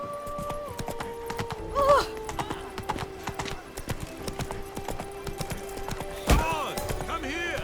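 Geralt's horse Roach from The Witcher 3 trotting, steady clip-clop hoofbeats throughout with a couple of neighs, under a voice calling to the horse and game music.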